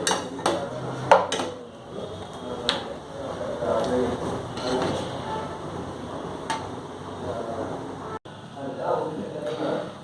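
Chicken fried rice being served onto a plate at home, with scattered clinks and scrapes of a spoon against cookware and dishware, a few sharp taps early on, under a person talking.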